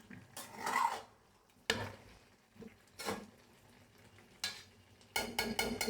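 Beef for a black bhuna fries and is stirred in its own juices in a pot, with several separate bursts of scraping and sizzling between quieter pauses.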